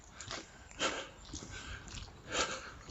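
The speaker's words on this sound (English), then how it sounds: "Oh, the doggy." A dog on a walk along a disused railway line, sniffing and snorting in short close bursts of breathy huffs, with a rhythm of quick snuffles and a stronger puff near the end.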